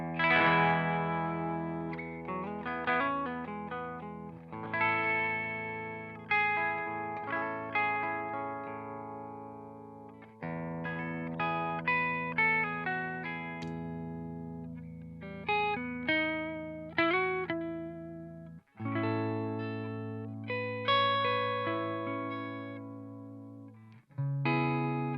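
Clean channel of a Victory Jack MKII guitar amp, electric guitar played through it with effects off: ringing chords and picked notes in phrases separated by short pauses, clear and sustained.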